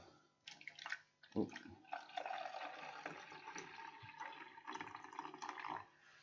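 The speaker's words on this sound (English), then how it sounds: "So I'm going to put some water." Tap water runs and splashes into a container during a classroom sea ice and Greenland melt experiment, coming in uneven gushes with brief pauses; a quiet voice briefly speaks over it.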